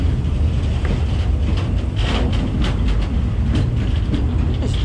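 A train rolls through a Bangkok slum, its continuous rumble and clattering wheels loud and close, with wind buffeting the microphone throughout.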